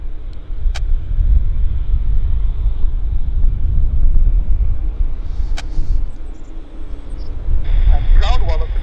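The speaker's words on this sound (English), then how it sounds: "Here's our United Airlines taxiing from San Francisco." A United Airlines airliner taxis at Vancouver airport, giving a steady low engine rumble at a moderate distance, with faint voices and brief tones over it.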